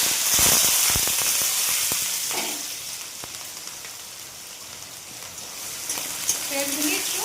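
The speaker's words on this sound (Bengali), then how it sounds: "পেঁয়াজগুলি একটু ভাজবো" Chopped onions fry in hot oil with fennel seeds in a kadai, giving a bright steady sizzle that gradually settles, broken by a few spatula scrapes and stirs.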